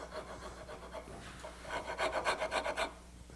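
Nicholson No. 50 cabinet rasp smoothing bandsaw marks off a wooden serving tray part: a steady series of close, rough scraping strokes, quieter at first and then a louder run of about seven rhythmic rasping passes.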